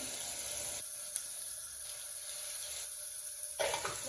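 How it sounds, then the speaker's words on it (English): Watery onion paste pours into a hot pan with a broad hiss that drops away briefly and then returns, close and steady, with no talking. "this onion paste has contained some amount of water, all will pour in like this"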